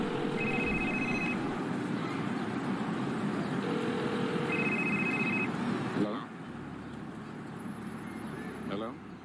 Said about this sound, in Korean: 에디를 쫓고 있던 남자가 전화를 받습니다